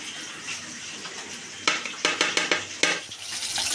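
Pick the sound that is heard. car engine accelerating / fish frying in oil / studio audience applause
fish frying in oil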